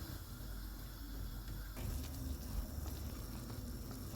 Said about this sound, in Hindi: पानी गर्म हो गया, इसमें साबूदाना डाल देंगे। चूल्हे को मीडियम रखेंगे और इसको ट्रांसपेरेंट होने तक पकाएंगे।